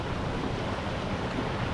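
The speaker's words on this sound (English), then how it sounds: "This is just the lower part of the waterfall." Lower section of Rattle Falls running heavy with a lot of water, a steady broadband roar of falling and churning water filling the whole clip at constant loudness, with no voices.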